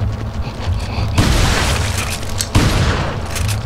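Gunfire and explosions in the video game Resident Evil 4, a loud dense barrage of booms and blasts that runs the whole time, with sharp new bursts at two points.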